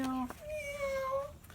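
A person imitates a cat, giving a few sing-song meows in a row, clear and close.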